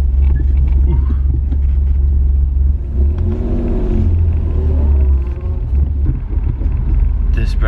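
Car engine rumbling steadily with occasional revs from inside the cabin while driving, loud and constant throughout, with people talking over it.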